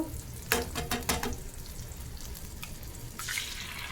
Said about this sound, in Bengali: এখন এক পাশে দিয়ে ডিমটা ভেজে নিব